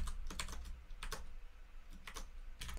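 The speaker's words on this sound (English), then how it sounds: "we can actually get that by simply typing in arguments instead of n1" Typing on a computer keyboard while writing JavaScript code, several short bursts of quick key clicks separated by pauses, close and clear over a low background hum.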